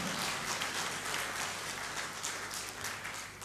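Crowd applause greeting a swing band as it takes the stage, a steady wash of clapping throughout at moderate level.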